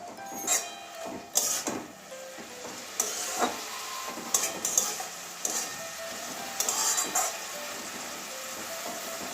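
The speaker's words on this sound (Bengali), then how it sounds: "এবারে ভালো করে একটু দুই এক মিনিট কষিয়ে নেব" Mustard greens stir-fried in a pan, with sharp intermittent spatula scrapes and clacks against the metal every second or so over a low steady sizzle, close and fairly loud.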